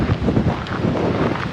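Gusty, cold wind at Point Cabrillo Light Station in Mendocino, California, buffets the microphone, a rough, close roar that swells and dips over a couple of seconds.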